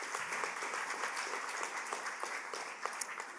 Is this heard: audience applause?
yes